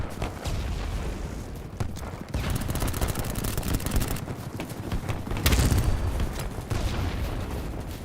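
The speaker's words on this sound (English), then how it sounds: "Oh, that's frag grenade." Frag grenade blast in the video game BattleBit, heard amid dense gunfire and booming explosions that fill the whole stretch, with a strong burst of noise near the middle and loud, continuous combat throughout.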